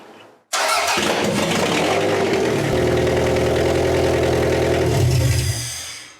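A Toyota MR2 engine cranks and catches, then runs loud and close at a steady, rough idle for several seconds before the sound cuts off.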